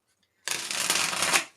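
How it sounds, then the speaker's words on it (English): A short burst of tarot cards being riffled and shuffled, crisp and close, after a moment of silence. "One more shuffle."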